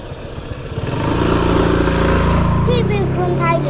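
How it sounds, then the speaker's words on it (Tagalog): A large motorcycle passes along a canal road in Bangkok, its engine rising from a low rumble to a loud, steady drone that stays close, with people talking over it. "Ang laki naman ng motor niya."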